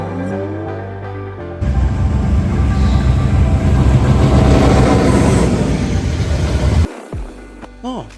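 A train rumbles past close by, a loud sustained roar with rattling wheels lasting several seconds, then it quickly fades into quieter background noise.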